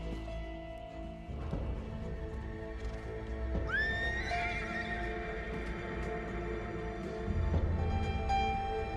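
A trained horse whinnies loudly in a long rising neigh, with softer snorts and hoof sounds nearby against a low background hum.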